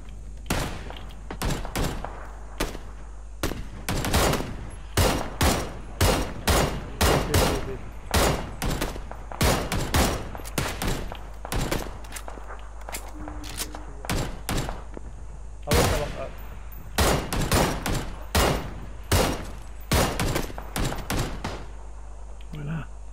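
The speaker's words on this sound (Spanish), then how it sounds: "están disparando por ahí" Rapid bursts of gunfire from the video game PUBG on PS4 crack repeatedly over a steady low hum, with shots fired in irregular volleys throughout.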